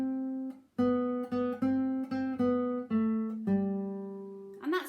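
Guitar playing a short syncopated melody bar with tied rhythms: about seven clear, close picked notes at uneven spacing, some held longer than others, ending with a quick slide upward.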